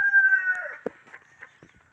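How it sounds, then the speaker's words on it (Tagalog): Backyard chickens and roosters call close by, a rooster's drawn-out crow fading into a few short clucks and scattered soft sounds in an otherwise quiet setting. "dami ng mga manok guys"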